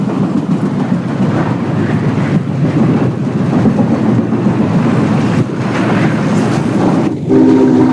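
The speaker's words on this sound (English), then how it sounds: "Returning to Roanoke, the J passes through an N&W coal yard." A Norfolk and Western J-class steam locomotive rumbles through a coal yard steadily and loudly, with a continuous roar of wheels and cars rolling by close up.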